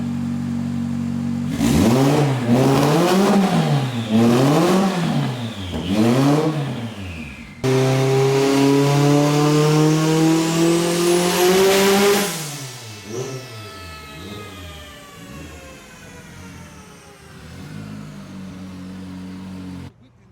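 Turbocharged Honda B-series engine with a BorgWarner S366 turbo and 2200 cc injectors revving hard on a dyno, rising and falling through the revs, then a long loud pull with turbo whine before winding down to idle.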